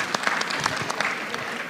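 Conference audience on a main stage giving panelists and speakers a round of applause: short, moderately faint patter of many hands clapping, spread evenly with no voices on top.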